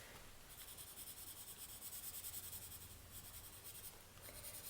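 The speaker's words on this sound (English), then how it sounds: "it's probably easier to see how the tortillon will gently smooth in the graphite" Soft, steady rubbing of a paper tortillon smoothing graphite shading on drawing paper, a faint continuous scratchy whisper that runs alone without pause at low level.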